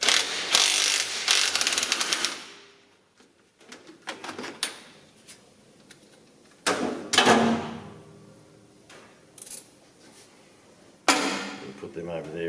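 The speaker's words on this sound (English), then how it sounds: "We can undo these two long bolts here." Bolts undone on the gear shift cover of a John Deere 2030 tractor, short ratchet clicks and metallic rattles in bursts separated by quiet gaps, close and moderate in level.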